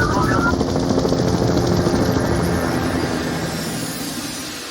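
A police helicopter roars close overhead, its rotor thudding in a steady, loud rhythm that fades slightly toward the end.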